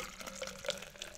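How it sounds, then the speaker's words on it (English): Liquid poured into a container right beside the microphone, a close, bubbly trickle with small splashy glugs over a couple of moments, no talking. "I'm pouring that into my..."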